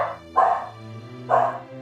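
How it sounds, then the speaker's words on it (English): Two sharp barks from a dog in the video game NieR Replicant, spaced about a second apart, loud and close over a low steady game soundtrack. "It turned into a dog."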